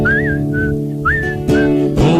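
Someone whistles a short series of chirpy, warbling bird-like notes over a sustained musical accompaniment, imitating a canary.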